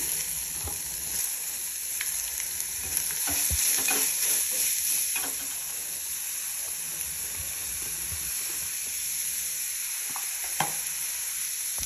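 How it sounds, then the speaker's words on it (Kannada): Oil crackles and sizzles steadily as grated pumpkin fries, with occasional stirring scrapes and clicks throughout; no voices. "ಈಗ ಈ ಕುಂಬಳಕಾಯಿ ತುರಿಯನ್ನು ಹಾಕ್ತಾ ಇದ್ದೀನಿ."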